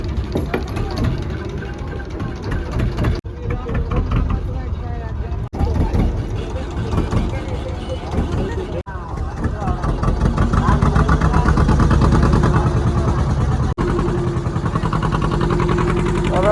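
A motorboat engine runs steadily through a river crossing in the Sundarbans, a continuous low throbbing drone that swells slightly midway, with people talking over it throughout.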